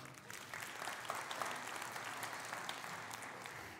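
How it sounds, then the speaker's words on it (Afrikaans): Audience at a church gathering clapping hands steadily and fairly loudly, with a dense, continuous patter throughout. "Kom vorentoe, kom sê my lekker hande klap."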